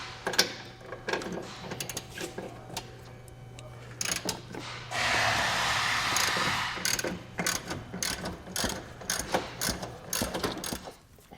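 Ratchet clicking in bursts while bumper bolts are loosened on a 2023 Ford, with a longer whirring spin midway and scattered metallic tool clicks close up.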